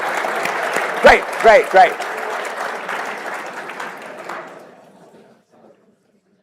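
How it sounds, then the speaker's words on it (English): A keynote audience applauds in a dense burst of clapping that fades away over several seconds, with a few louder voice exclamations riding over it near the start and then near silence. "Round of applause. I think maybe clapping helps."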